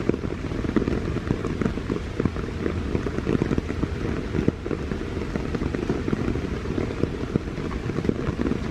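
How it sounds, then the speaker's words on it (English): Heavy rain pouring down on a short park trail during a morning thunderstorm, with water running down the path, a dense steady patter close around with no voices. "Getting a lot of rain."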